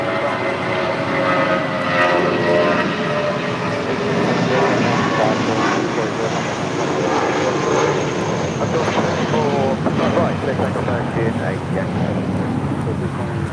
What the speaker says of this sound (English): This is Viva Airbus 623 taking off to Monterrey, Nuevo León, Mexico.